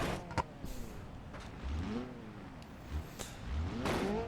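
A Pessima car in BeamNG.Drive launches into a jump and crashes on a proving-ground course, its engine revving and whooshing between scattered impact thuds, with no speech.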